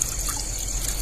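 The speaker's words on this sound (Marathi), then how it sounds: "थोडंसं पाणी घालून घेऊया" Water pours steadily into a pan of vegetable curry for about a second, a close, continuous splashing trickle with no talking.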